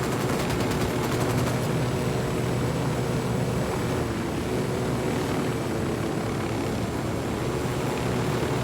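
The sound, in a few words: gunfire in the video game Ghost Recon Wildlands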